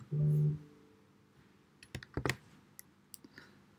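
Computer mouse and keyboard clicks while copying and pasting text in a WordPress article, a quick cluster of sharp close clicks with a faint tone at the start and scattered softer taps after, no talk.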